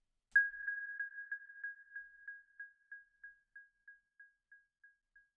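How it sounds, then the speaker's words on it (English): A dry digital delay in SuperCollider repeats a single pitched ping, the echoes spaced evenly and fading steadily over several seconds with no reverb tail, alone in silence. "the delay without reverb will be continuing"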